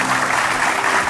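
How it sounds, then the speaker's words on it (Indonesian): Studio audience at a television talk show applauding the guests: a brief, dense, even wash of clapping from a large crowd, unbroken and without talk. "Kita kasih tepuk tangan dulu buat mereka semua."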